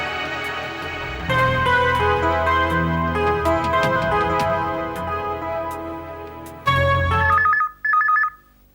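A telephone rings with bright repeated bursts over a loud musical background, the final rings standing out alone near the end.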